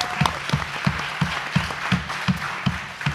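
Audience applause for the volunteers who organized a health-rights summit, a steady wash of many hands clapping throughout, moderately loud and with no talk over it.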